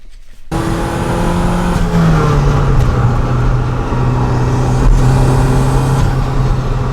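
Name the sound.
turbocharged Toyota MR2 engine revving under boost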